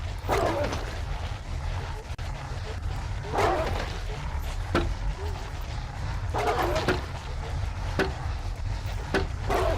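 Dogs bark repeatedly in a survival video game, a few sharp bursts standing out over a constant low rumble of game sound, with some faint vocal noise mixed in.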